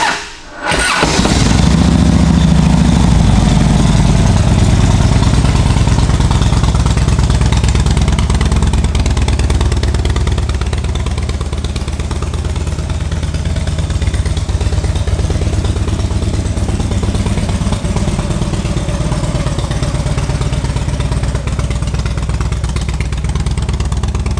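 A 2008 Harley-Davidson Dyna Low Rider motorcycle engine fires up after a brief starter whir, then settles into a loud, close, steady idle rumble that continues alone for over twenty seconds.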